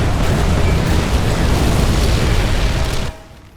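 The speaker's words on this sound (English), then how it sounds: "There's an absolute barrage on me right there." A loud, continuous barrage of explosions rumbles in the video game Fallout: New Vegas during a battle at a dam, a heavy booming wall of blasts that cuts off abruptly near the end.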